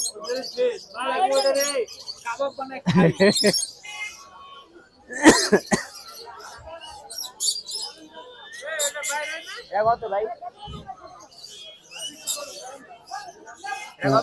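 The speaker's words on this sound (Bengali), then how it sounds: "এখানে ককাডেল পাখির বাচ্চা আরও দেখতে পাচ্ছেন" Cockatiel chicks and other caged birds chirp at a bird market in Mirpur-1, with thin tweets scattered through nearby talk, coughs and crowd chatter.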